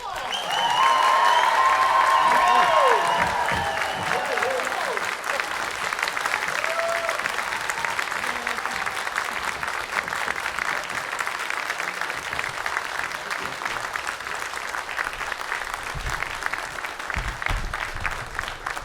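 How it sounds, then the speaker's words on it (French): A convention audience welcomes two actors with loud, sustained applause, with cheers and whoops rising at the start before settling into steady clapping that carries on for the whole stretch. "Messieurs, dames, s'il vous plaît, veuillez accueillir sous un tonnerre d'applaudissements Teryl Rothery Michael Shanks."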